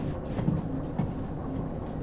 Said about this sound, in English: I'm just going to make sure the train gets past